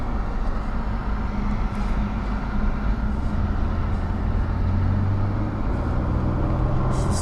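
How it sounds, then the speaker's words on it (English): A 1999 Toyota 4Runner engine under light acceleration makes a steady, even drone with a low rumble that swells slightly partway through and holds close and continuous throughout, with no voices. "Just a little light acceleration, get the engine warmed up."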